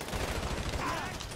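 Rapid bursts of gunfire in GTA Online, dense and continuous over a low rumble, with no clear pauses between shots.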